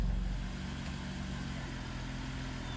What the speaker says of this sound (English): Well, there goes Dennis Tirjan leaving now.